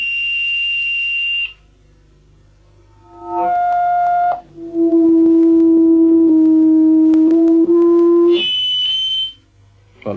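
Loudspeaker feedback howl held to a single sustained pitch, a loud steady electronic shriek lasting several seconds between shorter higher and lower tones, with no talk over it.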